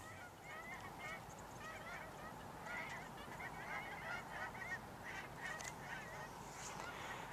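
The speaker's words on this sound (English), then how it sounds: "I like seeing these flocks of birds, but it just sucks knowing they're getting ready to leave for the winter." A flock of geese honks repeatedly during fall migration near Fairbanks, Alaska, the overlapping calls fairly faint and distant over a steady outdoor background.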